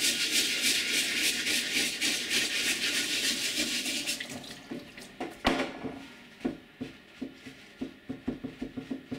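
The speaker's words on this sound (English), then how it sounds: "Just ordinary hot water and a dish brush." Bamboo being scrubbed with ordinary hot water and a dish brush: a steady rush of running water with rapid rhythmic brushing, then the flow stops and leaves sparse, separate scrubbing strokes close up.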